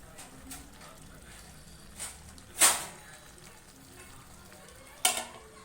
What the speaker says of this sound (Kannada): ಚಿಕನ್ದು ಈಗ ನಾವು ಒಂಚೂರು ಫ್ರೈ ಮಾಡ್ಕೊಳ್ಳೋಣ